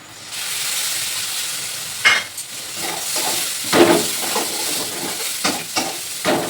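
Spice paste for a spicy fish curry sizzles steadily in a hot pan, a loud continuous hiss broken by several stirring scrapes and clinks of the utensil.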